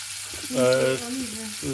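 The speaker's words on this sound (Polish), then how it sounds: "Szaszłyki mamy, jak widzicie, już E, na patelni, ładnie nam się tu smażą" Chicken breast and sausage skewers sizzle in a frying pan with a steady hiss, while a person speaks over it throughout.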